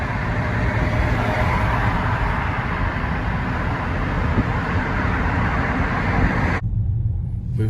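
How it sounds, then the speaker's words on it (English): Slow rush-hour road traffic in downtown Dallas, heard as a heavy, continuous low rumble of engines and road noise, close and loud, cutting off abruptly near the end. "Moving slow, 5 o'clock traffic in Dallas, stuck."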